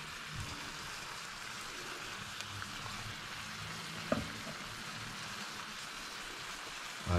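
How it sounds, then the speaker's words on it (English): Plain flour sprinkled into a sizzling pan, a close, continuous frying crackle with a few soft clinks and stirring sounds and no talk. "a tablespoon and a half of just plain flour, which I'm just going to sprinkle."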